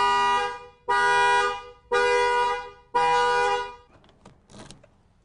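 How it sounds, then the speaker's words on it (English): A Rover 200 Cabriolet's alarm blasts the car horn in four loud, evenly spaced honks of about a second each, followed by a few faint clicks and knocks. "Now the vehicle's horns would sound for 30 seconds before going quiet and resetting."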